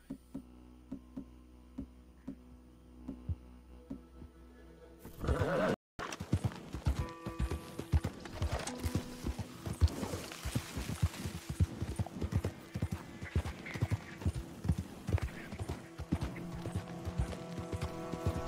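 Horse hooves clip-clopping in the video game Red Dead Redemption II, a steady rhythmic run of close hoof knocks after a quiet humming start, with a brief whinny.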